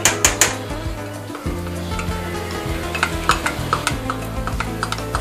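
A spoon stirs a quarter cup of cilantro and green onion into a pot of simmering green chile tamale cheese soup, with soft scraping strokes and occasional clinks against the pot over a steady background sizzle.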